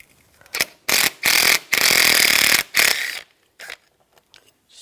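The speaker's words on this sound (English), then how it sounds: "Take this bolt off right here, use a 10mm socket." A ratchet with a 10mm socket works a bolt loose on a 2004-2009 Toyota Prius during radiator replacement, giving several loud, close bursts of rapid clicking, then a few brief lighter clicks.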